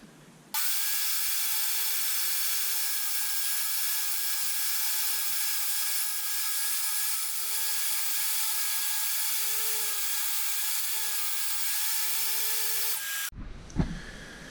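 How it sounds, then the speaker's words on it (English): A power saw cuts a 10-degree bevel in wood for a floating bookshelf: a loud, continuous high whine holds for about thirteen seconds, then cuts off abruptly with a short clatter. "So I'm going to cut this at a 10-degree bevel to match this angle"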